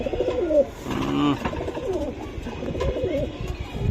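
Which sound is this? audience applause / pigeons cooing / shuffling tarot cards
pigeons cooing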